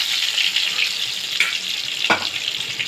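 Soya chunks (meal maker) fry in hot oil with a steady, bright crackling hiss up close, and a single sharp knock cuts in near the end.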